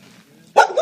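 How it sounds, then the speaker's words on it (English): A dog gives a single sharp, loud bark near the end of a quiet moment at a house with garages, close to the listener. "a dog,"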